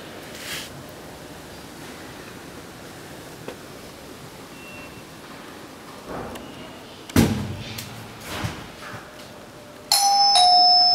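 A doorbell rings with a bright electronic chime near the end, after a quiet room with rustling and a heavy door-like thump midway.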